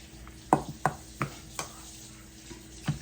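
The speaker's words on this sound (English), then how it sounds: "We'll just mix that on in." Buffalo chicken egg roll filling with extra cheese being stirred in a bowl, a handful of soft, wet clicks and scrapes spaced irregularly, close and quiet, with no talk.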